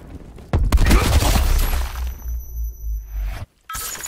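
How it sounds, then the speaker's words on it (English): Cluster grenade explosions in the video game Call of Duty: Black Ops 4, a sudden heavy boom with rumbling, crackling blasts that roll on for a few seconds before cutting off, then a brief return of noise. "Cluster grenade going out."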